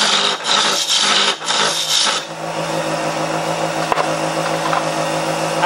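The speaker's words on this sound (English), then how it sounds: "I'm just going to blast through the thickness a little bit with my rubber gouge." Wood lathe gouge cutting through a small turned holiday ornament, a steady close rasping scrape with a few brief dips in the first two seconds, then continuous even cutting with no talk.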